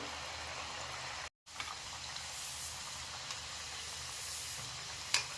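Chana dal vadas frying in hot oil, a soft continuous hiss and sizzle with faint crackles, briefly cut by a moment of silence and ending with a small pop.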